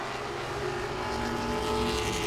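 Continuous roar of Grand Stock division stock cars droning past at Langley Speedway, a dense sustained motor sound with no pauses, heard from trackside.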